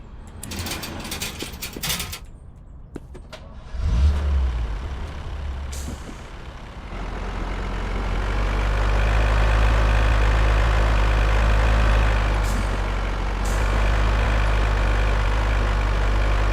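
A truck in Car Dealer Simulator hisses its air brakes and clunks through a few short mechanical sounds, then its engine idles and settles into a steady, loud low rumble that runs to the end.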